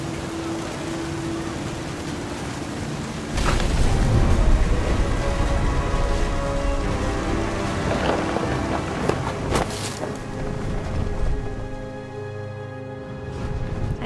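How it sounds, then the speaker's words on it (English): A stormy scene in the video game What Remains of Edith Finch: a steady wash of rain and wind gives way to a deeper, louder rumbling roar partway through, with low thunder-like swells and crackles over layered ambient tones. "The thunder sounded much too close and full of angry power."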